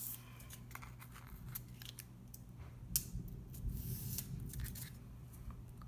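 Scissors trim a thin foam sheet into a stamp shape, a close, steady series of snipping and crunching cuts with a slightly louder snip near the middle and no one speaking.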